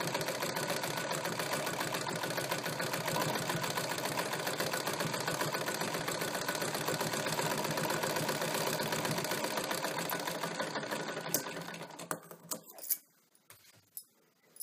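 A sewing machine stitches a strip on a single katori blouse, running in a continuous rapid, close rattle for most of the clip before slowing and falling silent, with a few clicks at the end and no talk.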